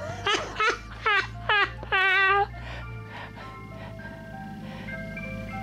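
An ice cream truck's chime tune plays in short melodic bursts, then a longer held phrase, followed by quieter continuing notes over low engine rumble.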